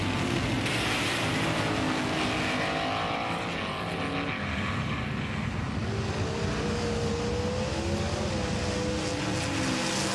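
Small 50-gram race cars buzz around a track in a steady, loud whine with rising and falling pitch sweeps as they corner, with no talk over them.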